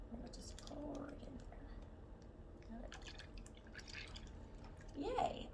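A cup of whole milk is poured into a bag for homemade ice cream. The liquid trickles and splashes faintly, with a bigger splash near the end, under quiet talk.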